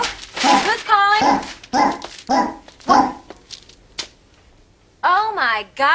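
A dog barks and whimpers in short bursts between bouts of speech in an indoor sitcom scene, with a higher whining yelp near the end.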